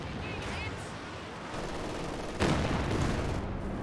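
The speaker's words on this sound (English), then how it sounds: "He's targeting this machine gun and he clears it out with a pretty close range barrage." A Katyusha rocket barrage in Company of Heroes 2, heard as a continuous dense rumble of launches and blasts with a louder surge partway through, set in a real-time strategy battle.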